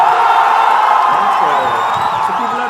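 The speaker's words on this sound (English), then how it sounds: "So people are cheering." A crowd-cheering sound effect plays in a Scratch game, a dense wash of many voices whooping and cheering. It is loud and continuous, easing off slightly at the end.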